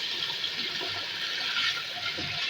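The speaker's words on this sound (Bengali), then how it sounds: "পানি দিয়ে দেবেন" Steady running water pours continuously into a pot of fried lentils for khichuri, a constant broadband splashing rush with no pauses, fairly close.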